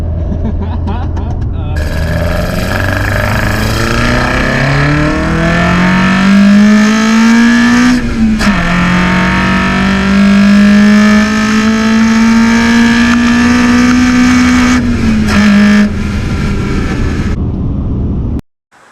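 A Toyota AE86 with a 4AGE engine revving, its induction noise a steady loud rising and falling drone with strong whine, sustained for most of the stretch before cutting off abruptly.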